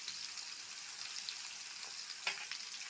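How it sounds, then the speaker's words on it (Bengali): Taro, the shola kochu or saru type, frying in a pan with oil makes a faint, steady hiss and soft crackle, with a few light spits near the end and no voices. "দিয়ে এটা আরো একটু ভাজছে।"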